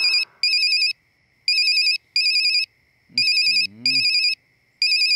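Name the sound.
phone ringtone ringing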